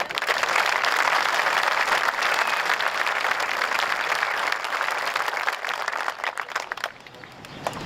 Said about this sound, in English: Let's give a round of applause to those.